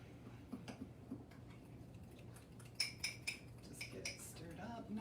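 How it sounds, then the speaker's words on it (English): A spoon stirs chocolate mug cake batter in a mug, making faint, soft scraping and occasional light clinks against the sides, close by over a low background hum. "Just get it stirred up nice and well."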